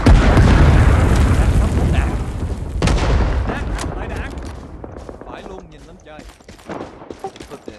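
An artillery airburst explosion in Rising Storm 2 Vietnam opens with a loud, sustained boom and rumbling blast that slowly decays, followed by scattered distant pops and shots, with a voice talking over it.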